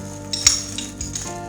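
Shallots sizzle in a hot pan for a sauce, a close steady frying hiss with a few light stirring clicks against the pan, no voices.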